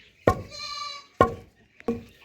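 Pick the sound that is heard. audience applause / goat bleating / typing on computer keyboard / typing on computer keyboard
goat bleating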